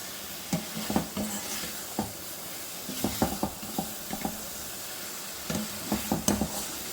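Potatoes for biryani are stirred gently in a sizzling pan, the utensil scraping and knocking in short bursts over a steady frying hiss.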